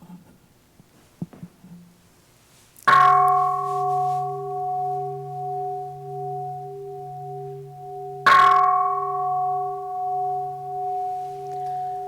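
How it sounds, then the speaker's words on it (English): A bell struck twice during a Buddhist service, each strike a bright metallic hit followed by a long, steady, sustained ring that hangs in a quiet room, the second strike coming several seconds after the first. "From here, ring the bell."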